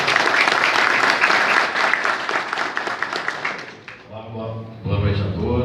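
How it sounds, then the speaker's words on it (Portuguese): Audience applause at a lecture, a full burst of clapping for about four seconds that thins out, after which a voice begins speaking. "Salva de palmas, Claudinho."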